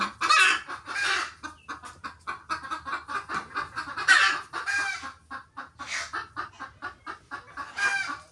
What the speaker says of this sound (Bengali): কি শুরু হইলো রে ঘরের মধ্যে মাইকিং করতেছে মুরগি